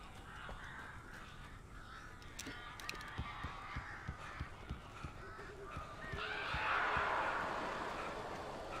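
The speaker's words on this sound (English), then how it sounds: "These birds are weird." Crows caw harshly over and over in a dark area of the video game Alan Wake Remastered, several birds calling at moderate distance amid a thick, noisy game soundscape, with the calls swelling into a dense flock near the end.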